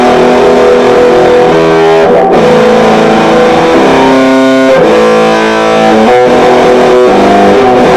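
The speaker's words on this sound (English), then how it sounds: "These humbuckers sound with some distortion." Distorted electric guitar through humbucker pickups on a 1980s Yamaha EG112, playing chords and riffs, loud and sustained, with thick, crunchy overdrive ringing through each strum.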